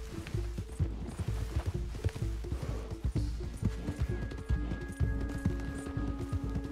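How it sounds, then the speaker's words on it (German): A horse gallops in Red Dead Redemption 2, its hooves drumming out a fast, continuous clip-clop rhythm, close and fairly loud, with game sounds layered underneath. "Mein Pferd hört auf mich"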